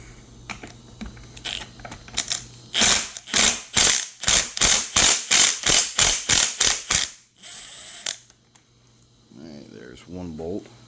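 A socket ratchet backs a bolt out of the passenger airbag module on a 2012 Cadillac SRX, a close, loud series of about a dozen evenly spaced clicking bursts, then a pause and a brief voice.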